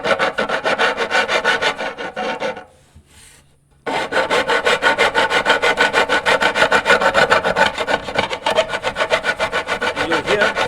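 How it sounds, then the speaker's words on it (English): A metal file rasps across fret slots in a handmade dulcimer, with steady rapid back-and-forth strokes, close and loud, pausing for about a second before resuming the same rhythmic scraping. "It's got little teeth and it cuts in one way, but the other way it'll just drag."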